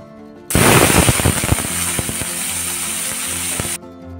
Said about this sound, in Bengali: ওই ব্রোকলি ভাজাটা করবো